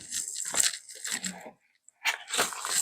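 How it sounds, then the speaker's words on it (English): Decal transfer paper is peeled off a bike fender in crackly, tearing bursts, close and fairly loud, broken by a brief pause before a final rip. "now I can pull from the top, and then peel that off"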